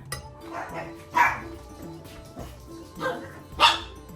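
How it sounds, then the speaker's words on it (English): A dog barks several times in short, sharp bursts spaced across a few seconds, fairly close, over a murmur of faint background sound in a home kitchen where biscuits are being made. "Yeah, I have a dog, like you guys know."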